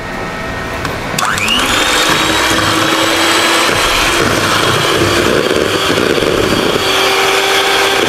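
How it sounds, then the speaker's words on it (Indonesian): An Idealife electric hand mixer whirs steadily as it beats batter with lime juice and powdered sugar. The motor spins up after a moment, then holds a loud, continuous buzzing drone with a slight shift in pitch partway through. "ini aku gunakan hand mixer dari Idealife"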